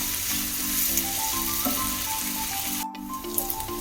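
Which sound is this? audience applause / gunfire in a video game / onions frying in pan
onions frying in pan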